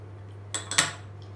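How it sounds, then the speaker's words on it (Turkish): A spoon clinks against a bowl while dry dough ingredients (salt, sugar, baking powder and yeast) are stirred together for potato börek. There are three quick, close metallic taps in a row, then quiet. "Bunları güzelce karıştırıyorum."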